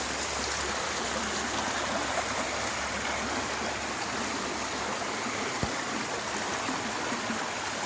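A creek swollen by heavy rain rushes fast past a fence, making a loud, steady roar of turbulent water with no pauses, close and continuous throughout.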